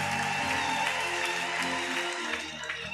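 A church congregation claps and cheers to acclaim Jesus, a dense, steady wash of applause from a large crowd that holds throughout with a slight fade near the end, mixed with sustained tones from music or voices.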